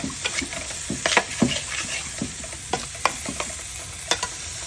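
Turmeric and Kashmiri chilli powder fry with a splash of water in a pan, a soft sizzle broken by repeated sharp metallic scrapes and clinks of stirring, close and irregular.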